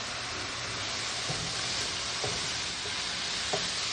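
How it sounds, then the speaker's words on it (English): Food sizzles steadily in a hot pan as it is stirred, with a few soft scrapes and taps of the utensil over a constant crackling hiss. "I'm just going to stir it around."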